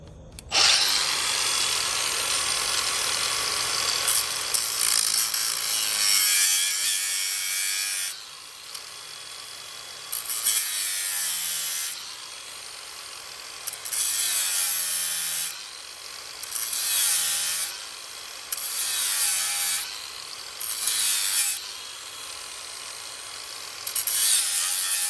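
A big power cutter grinds through a stuck car part in a loud, harsh, high-pitched whine that runs continuously and then cuts in and out in repeated bursts, close by and with no talking.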